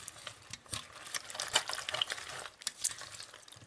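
A spoon stirs oyster sauce into a tuna noodle casserole, giving soft wet scraping and gentle squelching strokes close by, quiet and irregular, with no voices.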